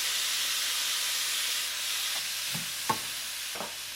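Pork and celery stir-fry in a wok after cooking wine is added, giving a steady loud sizzle and hiss with a few soft stirring scrapes and clicks toward the end, without any talking.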